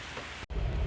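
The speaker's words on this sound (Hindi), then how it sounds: "क्या फाइनली बारिश आ गई तेज वाली" Heavy rain pours down steadily at a train station, a dense broadband hiss that breaks off for an instant and then returns louder and fuller, with no voices over it.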